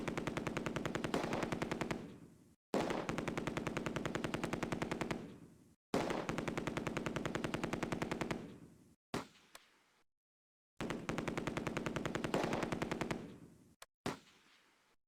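Sustained machine gun bursts from a World War II battle in the Close Combat video game, set at Oosterbeek during Operation Market Garden: four long rapid-fire bursts of several seconds each, with short gaps and clipped single shots between them, loud and close.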